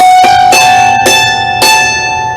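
A hammered dulcimer string tuned to A is struck several times by the right hammer, bright metallic strikes ringing close and loud, overlapping as the tone sustains and slowly fades.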